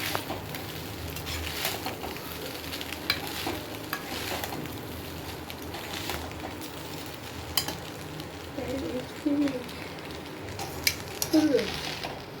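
Fried rice with egg being stirred and fried in a pan at home: a soft steady sizzle under occasional scraping and clinks of a utensil against the pan, faint and close, with no talking.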